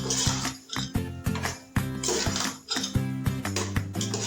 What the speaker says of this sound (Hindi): साथ ही हम डालेंगे इसमें जीरा, वो भी हाफ टी स्पून। और इसको हम अच्छी तरह से अब भून लेंगे।